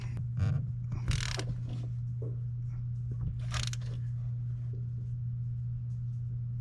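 A ratchet on a long extension tightens a bolt while a lift kit goes onto a 2021 Chevrolet Silverado Trail Boss: a few quiet clicking bursts over a steady low hum, with faint mechanical clatter between them.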